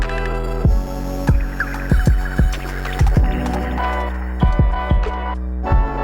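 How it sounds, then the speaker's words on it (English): Synth tones run through a heavy, psychedelic spring reverb, with repeated thumping low pulses roughly every half second and a sustained humming drone beneath, loud and alone with no talking. "That's like very, very psychedelic spring reverb action."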